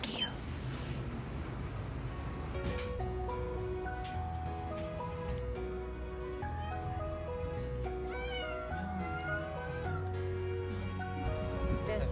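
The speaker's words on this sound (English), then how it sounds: "I'm inside a cat cafe right now." A cat in a Tokyo cat cafe gives a few short, rising meows near the end, soft and close, under background music and faint indoor murmur.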